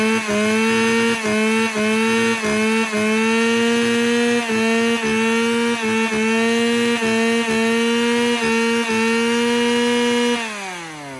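A Japanese ECHO Shindaiwa chainsaw runs close by, its engine buzzing loudly with repeated throttle blips that rise and dip in pitch, then winds down at the end.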